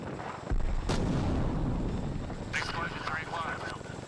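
A deep explosion-like boom in a combat radio recording, followed by sustained rumbling roar and engine-like drone, with radio voices talking over it.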